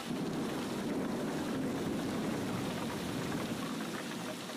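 Heavy storm rain pours down in a cartoon boat scene, a dense, steady hiss mixed with gusting wind that stays loud and unbroken throughout, with no voices over it.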